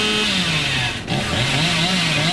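Chainsaw in the Dead by Daylight video game, a loud, continuous buzzing engine drone that wavers in pitch and briefly dips in the middle before revving back up.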